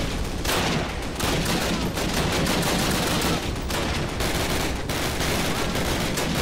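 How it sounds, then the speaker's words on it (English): Two light machine guns firing in Call of Duty (2003), sustained rattling bursts of automatic gunfire that are loud and continuous, with no talking. "Two goddamn LMGs"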